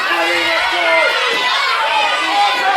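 A wrestling crowd at a tournament match cheers for Eddie Thomas, a steady, loud roar of many voices with shouts rising and falling throughout, close and continuous.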